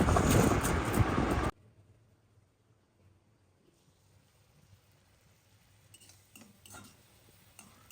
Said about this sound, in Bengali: এটা এখন র্যাপ করবো।